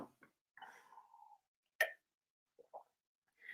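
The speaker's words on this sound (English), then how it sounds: "I got the hiccups." A person hiccuping during a late-night chat, a few short, sharp, isolated throat spasms with quiet breaths between them, close and otherwise silent.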